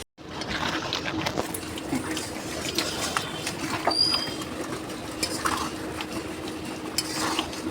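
A pot of raw mango and jaggery sweet pickle boils steadily, with a continuous bubbling hiss and occasional clinks of a utensil against the pot, with no talking.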